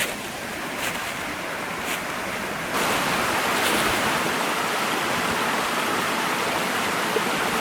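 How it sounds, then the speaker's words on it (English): A small waterfall on a tributary stream in Jefferson National Forest, swollen after recent rains, gives off a continuous, hissing rush of water that grows louder partway through, with no voices. "I come to this tributary and there's a waterfall just upstream"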